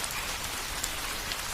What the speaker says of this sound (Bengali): এক টানা বিরামহীনভাবে বৃষ্টি পড়ছে তো পড়ছেই।